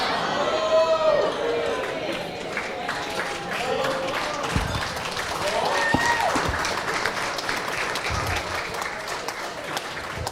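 Wedding guests at a reception applaud the best man in a steady, full round of clapping that carries through the whole stretch, with cheers and voices mixed in.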